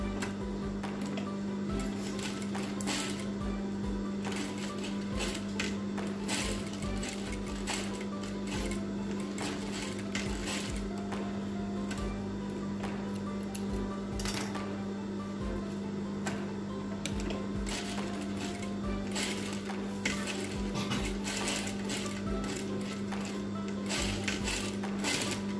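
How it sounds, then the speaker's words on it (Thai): Home sewing machine stitching fabric for a DIY face mask, a steady mechanical hum with fast ticking needle strokes running continuously and fairly close, with no talking. "ข้างในเราก็จะเย็บเหมือนกันนะคะ"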